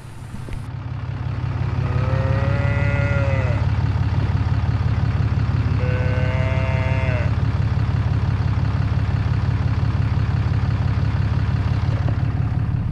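A person imitates a cow's moo twice, two drawn-out lowing calls over a steady idling engine rumble, during Florida alligator hunting.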